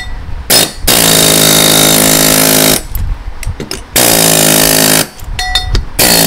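A rock crusher breaks big lumps of gold ore from an abandoned gold mine with loud sustained grinding roars, broken by short pauses and rattling impacts, close and dominant.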